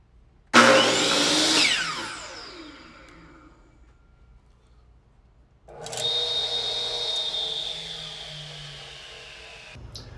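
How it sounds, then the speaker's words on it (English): A Dewalt compound miter saw and a restored Dewalt MBF radial arm saw run one after the other: a loud universal-motor scream that spins up and winds down, followed by a lower, smoother induction-motor hum that runs for several seconds and then stops. "Let me quickly demonstrate the difference in noise level between these two saws."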